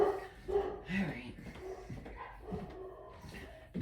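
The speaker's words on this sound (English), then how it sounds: "Now Louie's gonna start barking." A dog named Louie barks in short bursts at a distance, mixed with whimpers, while a person talks over it outdoors in snow.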